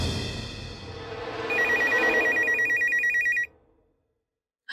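A telephone rings indoors in a short burst of bright electronic trilling over a low background hum, then cuts off into silence.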